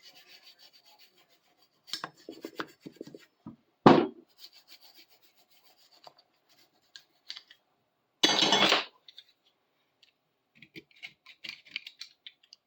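Someone scrapes black coating off a clamp vise being restored, making short bursts of gritty metal scraping separated by quiet pauses, with two longer, louder strokes among lighter rasps and taps, close and without talk.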